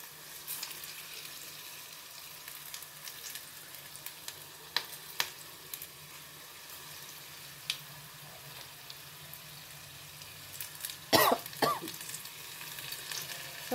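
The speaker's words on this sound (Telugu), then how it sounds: "గోల్డెన్ కలర్ వచ్చేంత వరకు మంచి క్రిస్పీగా వేగితే చాలా బాగుంటుంది." Onion bonda and mirchi bajji deep-fry in hot oil with a steady, close crackling sizzle, broken by occasional clicks and scrapes of stirring near the end.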